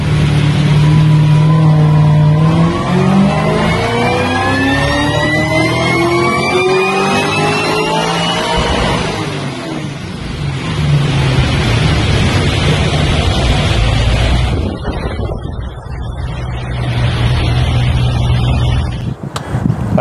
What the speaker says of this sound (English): here's the most recent dyno video of 700 horsepower on my VF